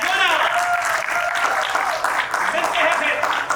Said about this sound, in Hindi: एक बार फिर भरपूर तालियां